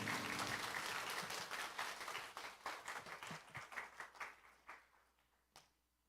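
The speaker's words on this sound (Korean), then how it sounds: "우리 목사님 나오실 때 우리 큰 박수로 우리 같이 환영하겠습니다" A church congregation applauds loudly during a Sunday service, welcoming the pastor, the clapping dense at first and then thinning into scattered individual claps before dying out.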